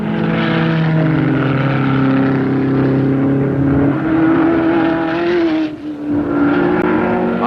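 Porsche race cars, led by car number 31, pulling away together at the start of the 1969 Sebring 12 Hours, a loud, close, sustained engine roar with rising revs and no talk.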